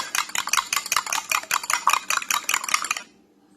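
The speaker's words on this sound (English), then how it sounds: "2 eggs, beat with a fork." A fork whisks two eggs in a bowl for waffle batter, a quick, even run of close metallic clicks and taps that stops abruptly near the end.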